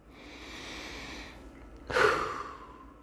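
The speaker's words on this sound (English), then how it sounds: "take a minute and take a nice deep breath" A slow, deep breath drawn in and then released in a strong exhale, close and alone with no talking.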